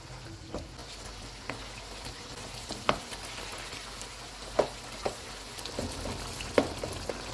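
Ingredients for karahi gosht, including peeled tomatoes, are stirred in a pan on a medium flame over a low frying sizzle, with occasional scraping knocks of the spoon against the pan and no talking.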